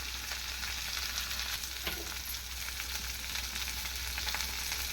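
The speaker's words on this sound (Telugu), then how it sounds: "బాగా ఫ్రై చేసేసాను." A wheat flour snack fries in a pan with salt and turmeric, a steady, even sizzle and crackle of oil that carries on uninterrupted, close and fairly quiet, with no talk.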